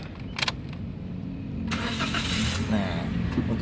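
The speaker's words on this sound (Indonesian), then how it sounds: "Kalau sudah yakin bahwa mobil itu bersih, bagus, nah coba kita nyalain mobil." A 2015 Toyota Avanza 1.3 G manual cranks and fires up: a brief starter whir, then the engine catches and settles into a steady, moderately loud idle nearby.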